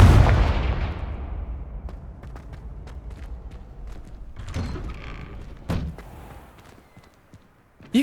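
A Confringo spell blast in Hogwarts Legacy sets off a heavy booming explosion that decays slowly. Sharp cracks and thuds follow, then a final sudden hit at the end.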